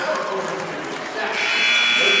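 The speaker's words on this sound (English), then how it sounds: "There's the buzzer, and we head to the end of the third quarter" A basketball end-of-quarter buzzer sounds in a high school boys' gym, a sharp sustained electronic tone rising over crowd noise and a commentator's voice just after a putback at the horn.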